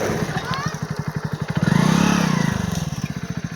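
A motorcycle engine labours uphill, its close, throbbing exhaust pulse rising into a strained rev and then settling, while people talk over it.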